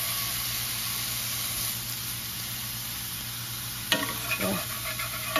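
Smash burger patties for tacos sizzle and hiss steadily in a cast iron skillet, with a scrape and clatter of a spatula pressing them down near the end.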